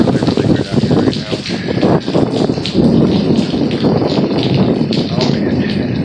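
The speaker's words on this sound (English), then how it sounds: "It hasn't rained like this in quite a while." Heavy monsoon rain pours down at night, a steady dense wash of drops and patter on surfaces that stays loud throughout, with faint voice-like sounds mixed into the downpour.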